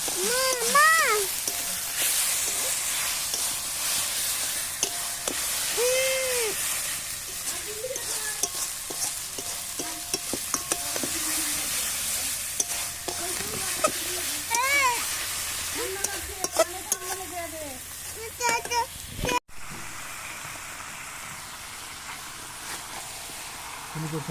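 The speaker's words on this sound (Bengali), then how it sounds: "পেঁয়াজটা লাল করে ভাজা হয়ে গেছে, তারপর মশলাটা দিয়ে দিল। মশলা টমেটোটা দিয়ে দিয়েছি।" Onions, spices and tomato for a duck curry sizzle and fry in a pan at an outdoor picnic, under frequent stirring clatter, with people chatting, a cat meowing and a sharp bump near the end.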